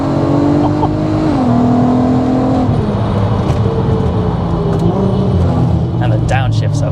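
The engine of a self-built supercharged Mk5 VW Golf R32 making over 450 bhp drones loudly and rises in pitch through the revs with supercharger whine, heard close from inside the car under people talking.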